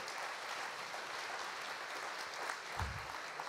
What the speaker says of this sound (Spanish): un aplauso, gloria Give God glory.